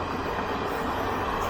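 South East Central Railway coaches on a train near Shoranur rumble past in a steady, close, broadband roar, with no talking heard.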